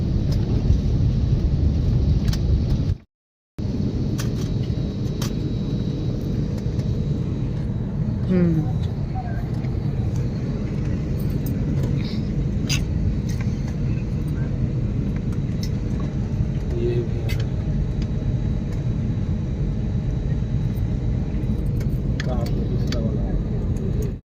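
Airplane taxiing on a runway before takeoff, a steady low engine rumble with a continuous whine that holds throughout, interrupted by a brief gap, while people talk over it.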